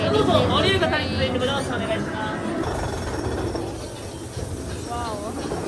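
A roller coaster train rolls along with a loud, steady rattling roar at Tokyo Disneyland, while people chatter and voices sound over it.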